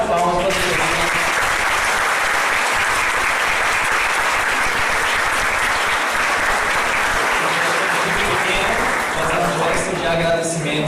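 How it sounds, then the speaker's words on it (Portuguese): Sustained audience applause after a talk at a Brazilian family colloquium, a dense, steady wash of many hands clapping throughout, loud and continuous with no pause. "Uma salva de palmas para você."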